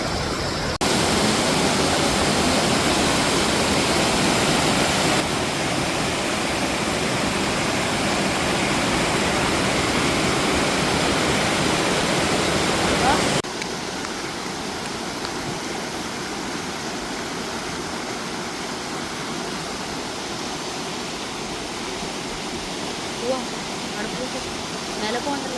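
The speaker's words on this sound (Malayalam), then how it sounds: "ഇതാണ് ഹിഡൻ വെള്ളച്ചാട്ടം. കക്കായി എന്ന് പറഞ്ഞ വെള്ളച്ചാട്ടം" Hidden Kokkayi waterfall in Kannur, water falling from a good height, a loud steady roaring rush that drops to a quieter continuous flow partway through.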